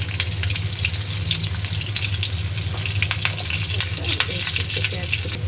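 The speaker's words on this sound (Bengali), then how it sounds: "পেঁয়াজ কুচি দিয়ে দেখো, এখন হচ্ছে একটু শুকনো মরিচ ভেজে নিব এটার সঙ্গে।" Chopped onion fries in a pan for a Bengali sweet pumpkin dish, a dense, even sizzle that holds steadily close by throughout with small crackles and pops.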